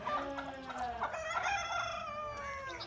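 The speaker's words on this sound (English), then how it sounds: "The peacocks are going crazy because there's some Canadian geese visiting the pond." Loud, wailing peacock calls ring out close by, a few rising, nasal honking cries overlapping one another in quick succession, on a foggy day by a pond.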